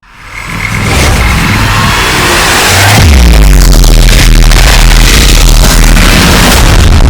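A car loaded full of luggage, its boot packed, drives along with a steady engine hum and road rumble that swells into a heavier, louder low drone partway through as it gathers speed.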